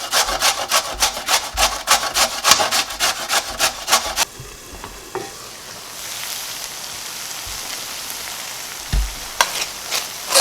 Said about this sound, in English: and now I'll grate a carrot.